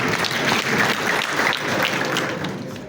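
Audience applause at a public gathering in Musanze, Rwanda, honouring the men who built the houses: a full, steady burst of clapping from many hands that tapers slightly toward the end.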